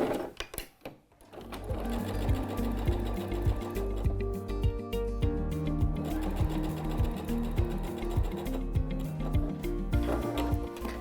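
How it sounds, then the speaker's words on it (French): A sewing machine stitches fabric about 1 cm from the edge, running in a fast, even mechanical rhythm close by for most of the time after a brief start, with no voices. "je vais aller les piquer à la machine à 1 cm du bord"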